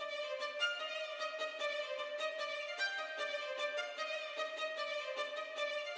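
A bright, synthetic violin-like melody in short, detached staccato notes, played steadily and fairly quietly over a sustained tone.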